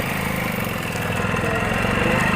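A motorcycle engine runs steadily at a low, throbbing idle just after being started in a village setting. It stays loud and close for the whole two seconds, with no voices.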